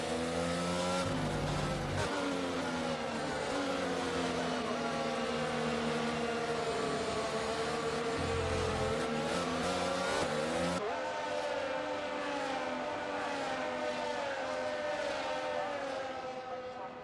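Formula 1 race cars in the F1 22 video game rev their engines on the starting grid at Albert Park for the Australian Grand Prix, a loud sustained whine with rising and falling pitch sweeps from several cars.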